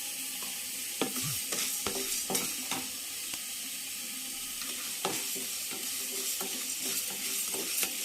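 Coriander seeds, fenugreek and black pepper dry roasting in a pan, with soft intermittent scraping and rattling as the spices are stirred, quiet and close, no talking.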